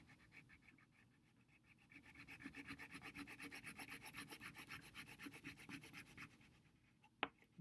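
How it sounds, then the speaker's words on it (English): Crayon rubbed firmly across paper while a picture is coloured in, giving faint, close back-and-forth scratchy strokes in a quick steady rhythm, followed by a brief knock near the end. "I'm putting a little bit more pressure on my crayon to make it look darker."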